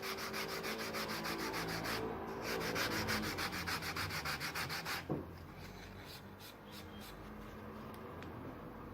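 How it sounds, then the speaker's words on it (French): Wood surface being cleaned ahead of walnut stain, a steady rhythmic rubbing and scrubbing that is loud at first and then softer, with no talk. "Je nettoie bien la surface pour que la finition pénètre dans les pores du bois."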